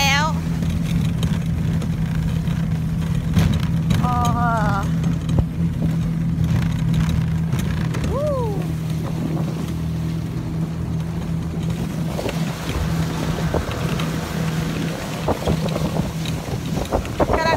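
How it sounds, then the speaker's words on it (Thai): Motorcycle taxi riding through snow in Harbin: a steady engine drone runs throughout, with wind buffeting the microphone and a few faint voices in the background. "กำลังนั่งวินมอเตอร์ไซค์กลางหิมะนะคะเนี่ย"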